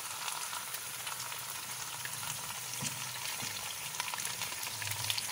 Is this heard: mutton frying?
yes